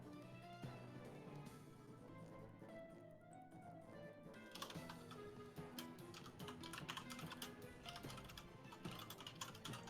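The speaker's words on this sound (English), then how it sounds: "Suspicious typing sounds from Baron von Sheepington." Computer keyboard typing from Baron von Sheepington during an online role-playing session: quick, irregular key clicks, close but fairly quiet, running over soft background music.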